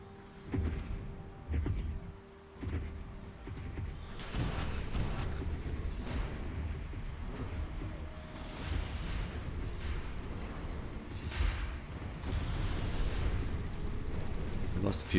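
Stellaris space battle with torpedoes firing between fleets of battleships and cruisers: a continuous barrage of booming launches and explosive thuds, dense and rumbling, with sharper bursts scattered throughout.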